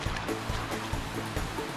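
Water of Charlie's Creek in Georgia flowing ahead of a vehicle ford on an overland trail: a steady close rushing wash with small repeating surges, no voices.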